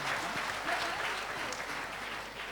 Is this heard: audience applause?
yes